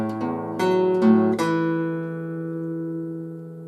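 Acoustic guitar playing a blues bass riff on open strings: a few plucked low notes that ring on and slowly fade, with no voice over them.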